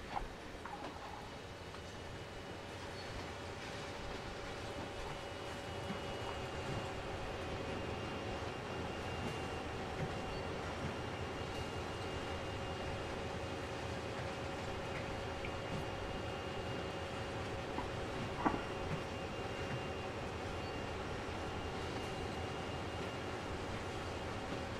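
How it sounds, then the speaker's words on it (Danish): Train in the video game Train Sim World rolling past: a steady, even rumble with faint wheel and carriage noise holds for the whole stretch and stays at a moderate distance, with no speech. "Jeg går ud for, at vi skal have hele toget forbi."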